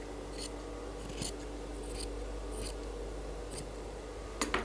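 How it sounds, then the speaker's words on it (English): Scissors make several crisp, short snips, spaced a moment apart, as excess suit canvas is trimmed close by against a quiet background. "once it's balanced, then you can now trim the excess"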